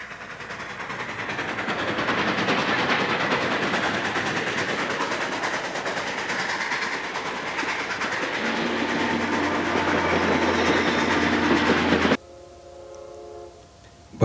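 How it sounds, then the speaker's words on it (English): A steam train approaches, its rumbling, clattering roar building steadily and loud, then a sustained horn-like tone swells before the noise cuts off abruptly, leaving a fainter tonal sound. "It's a steam train coming toward us."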